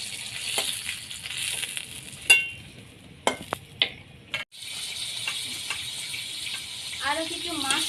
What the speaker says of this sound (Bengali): এই বাকি মাছটা কড়ার মধ্যে দিয়ে দিলাম, মাছের ডিমটাও দিয়ে দিলাম, দিয়ে এগুলো কিছুক্ষণ সুন্দর করে ভেজে নেব